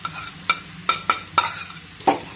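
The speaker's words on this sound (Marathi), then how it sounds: "पहा, अगदी 1 मिनिटभर आपण तुपामध्ये चपातीचा चुरा हा परतून घेणार आहोत" Chapati crumbs stirred and fried in ghee over a low flame, with about six sharp, close spatula scrapes against the pan over a soft sizzle.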